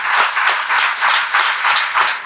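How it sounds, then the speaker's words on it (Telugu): A church congregation claps loudly together in a steady, rhythmic beat, with several strong pulses in quick succession. "గట్టిగా చప్పట్లు కొట్టి ప్రభు నామాన్ని మహిమపరచాలి"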